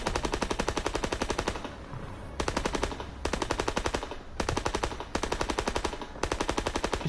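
Machine gun fire in a video game, long rapid automatic bursts separated by brief gaps, loud and close, with no talk over it.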